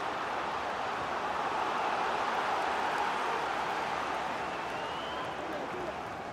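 Crowd noise from a FIFA 22 football match, a broad steady roar of supporters driving their team on, filling the background at an even level throughout without any distinct peaks.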